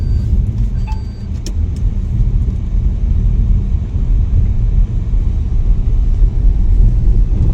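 A car drives along an empty road, its engine and tyre rumble forming a steady, loud, continuous drone with no voices.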